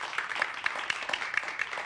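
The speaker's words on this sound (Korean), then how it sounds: "만약 감격적이면 박수를 꼭 쳐주세요." A lecture audience gives brief applause, a soft, distant patter of many hands clapping with a few sharper claps standing out.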